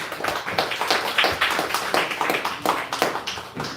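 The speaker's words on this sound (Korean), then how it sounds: "우리 박수로 전달해 주세요." A church congregation claps during a Sunday morning service, a short burst of fairly loud, close applause with a quick, steady rhythm of individual hand claps.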